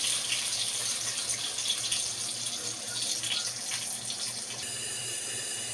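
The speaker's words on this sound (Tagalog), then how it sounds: "Sabawan na natin guys, isang basong tubig." A glass of water pours into a pot of sinigang na bangus, Filipino milkfish sour soup, as a steady close rushing splash that runs for several seconds with no talking.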